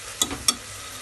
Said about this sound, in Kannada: ಒಂದು ಸ್ವಲ್ಪ ಫ್ರೈ ಆಗಲಿ ಟೊಮೊಟೊ